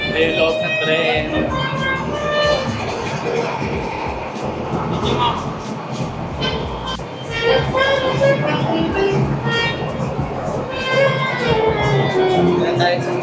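Interior of the old Da Lat railway train during a ride, a steady rumbling rail and carriage noise filling the whole stretch, with people talking throughout over the continuous clatter.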